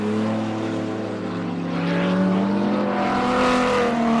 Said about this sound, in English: That's one sound that you will always recognize, is the sound of a BMW.